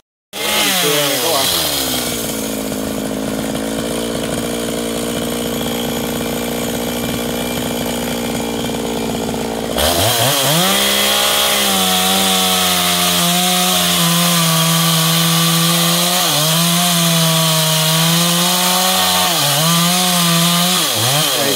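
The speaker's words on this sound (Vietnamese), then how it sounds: "cưa gốc mình về tiếp nha các bạn" A chainsaw cuts the stump of a golden wattle tree near a fish pond by a house, running loud and close without pause, its engine pitch dropping and rising as the chain bites into the wood.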